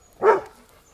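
A dog gives a single short bark, close and clear, outdoors near horses.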